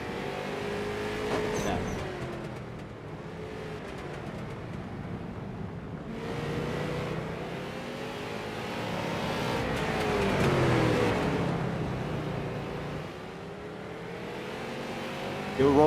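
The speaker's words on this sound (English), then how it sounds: "We're hearing the roar of the engine that Scotty Smith has." A short-track race car engine roars and revs, rising and falling in pitch as it accelerates and passes, loud and continuous with swelling peaks, with faint talk underneath.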